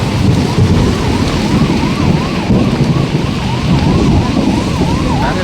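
Heavy rain pours steadily during a violent pre-monsoon Kalbaisakhi thunderstorm, a loud, dense continuous roar with rumbling low-end thunder, while a wailing siren-like tone rises and falls faintly beneath the downpour.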